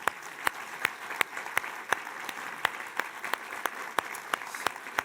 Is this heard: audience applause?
yes